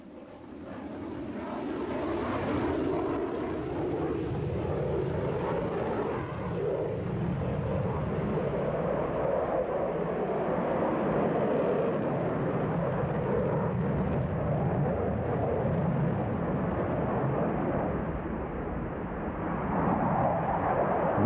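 MiG-29 Fulcrum fighter jet flying near an airbase outside Moscow: a sustained, loud broadband jet engine roar that holds steady throughout, swelling slightly at the end, with no talk.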